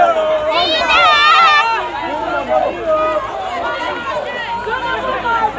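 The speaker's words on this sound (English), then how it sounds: "You can see the full crowd now." Protest crowd in Benin, Edo State, near Agbor Park: a loud outdoor hubbub of many voices shouting and chanting together, with one louder voice rising over the din near the start.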